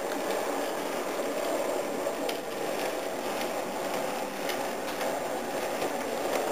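Century-old locomotive running on an HO model railway, a steady close mechanical whir with faint rail clicking and rumble, continuous and even throughout, with no voices.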